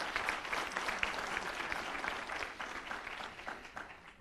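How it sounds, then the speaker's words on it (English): An audience applauds a panel at the close of a research discussion, a steady wash of many hands clapping that holds for several seconds and tapers slightly toward the end, with no voices. "A big round of applause to our panel."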